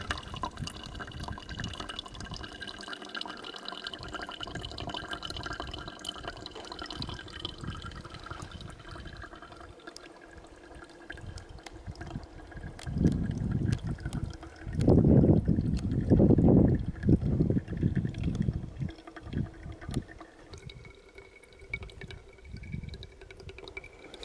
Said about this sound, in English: enjoy the sound of water running into an old bottle that I've been carrying for 4 years